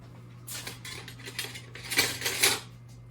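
Chocolate cake mix and sugar being stirred in a bowl, giving a few close, quiet scraping and clinking strokes of a utensil against the container, with no one talking.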